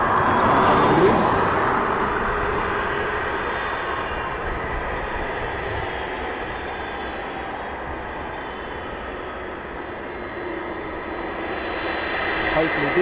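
A jet aircraft taxis at East Midlands Airport at night, its engines producing a loud, continuous roar and whine that swells slightly at the start and end, heard from nearby outdoors.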